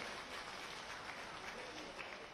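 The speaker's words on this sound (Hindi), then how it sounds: "जोरदार ताली बजाकर उनका भी अभिनंदन करें" An audience at a farmers' rally in Bhopal claps in steady, continuous applause, heard faint and distant.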